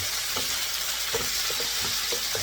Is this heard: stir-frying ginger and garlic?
yes